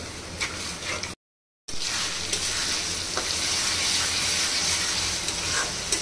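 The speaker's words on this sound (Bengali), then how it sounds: "এখন মশলাটা খুব ভালোভাবে কষিয়ে নিতে হবে।" Chili powder, coriander powder and salt fry in a pan for a beef brain bhuna, a steady, close hissing sizzle with stirring that runs nearly the whole time, broken by one short silent gap.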